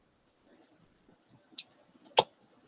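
Scissors snip ribbon for bow tails, giving two or three quiet, sharp clicks spaced about half a second apart in a hushed room.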